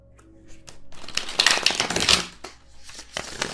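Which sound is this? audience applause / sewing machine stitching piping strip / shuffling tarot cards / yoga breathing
shuffling tarot cards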